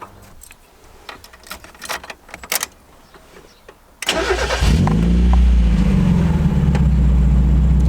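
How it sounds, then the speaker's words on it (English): A Honda Civic Del Sol, just repaired with new hose clamps, cranks briefly after some clicks and handling noises, then fires up and settles into a loud, steady close idle. "So let's fire it up really quick, make sure we got no vacuum leaks"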